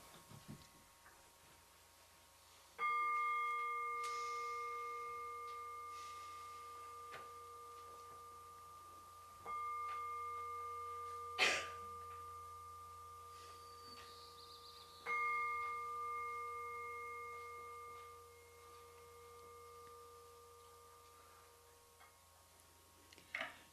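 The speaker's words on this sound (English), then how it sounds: "we begin our sacred time together by ringing our chime" A meditation chime rung to open a worship service at a fellowship gathering, struck three times at steady intervals, each tone ringing out clear and long before slowly fading, with no voices.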